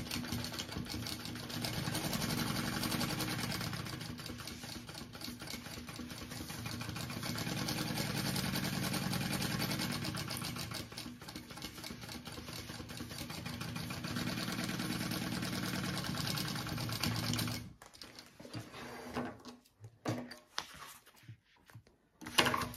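A sewing machine bastes fabric for a bag flap, running in a steady, continuous motorized hum with a fast needle rhythm for about eighteen seconds before slowing into a few short stop-start bursts and then falling quiet.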